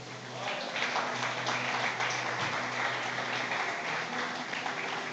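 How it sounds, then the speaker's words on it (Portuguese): A church congregation applauds during a sermon, producing sustained, dense clapping from many hands that fills the room evenly, with a faint musical tone underneath. "Você pode aplaudir a Jesus por isso?"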